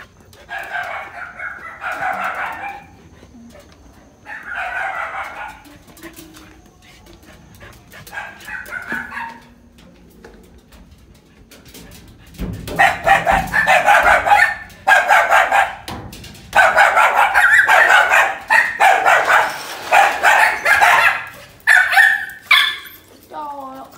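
A dog barks in loud, repeated bursts close by, with short gaps at first and then dense runs of excited yips and whimpers mixed with a voice.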